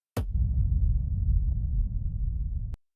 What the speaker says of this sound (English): It added this nice character just at the beginning of my kick.